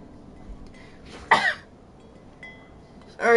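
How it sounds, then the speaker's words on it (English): A person gives one short, close cough, followed by quiet background game sounds and another cough-like burst at the end. "Sorry, I keep coughing."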